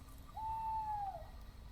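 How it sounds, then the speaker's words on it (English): A single long, clear owl hoot carries through the night at a wild riverside campsite, steady and moderately near against a quiet background. "I can hear the owl again."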